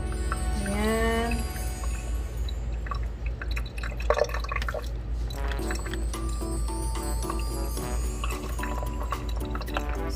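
Water dripping and trickling out of a Gotta Go Flamingo toy, a steady run of small drips and splashes heard close up over a constant low hum, with a brief louder clatter partway through.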